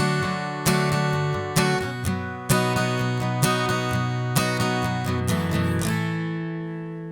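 An acoustic guitar is strummed through a chord progression. Full chords ring out, with accented strums roughly every second and sustained ringing between them, played alone and at moderate volume.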